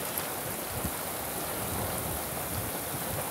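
Steady rain pours down in a brief windy afternoon shower in Earp, California, an even, close hiss of drops with soft patters and no talking.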